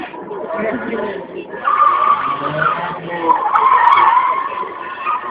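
A modified BMW skids hard at an autoslalom event in Ivano-Frankivsk, its tires squealing in long, loud sweeps that rise and fall as the car slides through turns.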